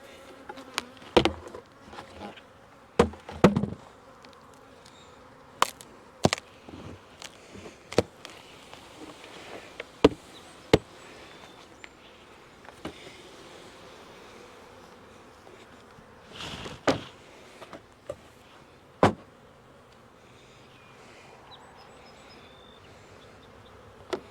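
Honeybees buzz around an open hive during beekeeping, a continuous soft hum with individual insects droning past close by in loud brief swells, and scattered knocks and clatter of handling; no speech.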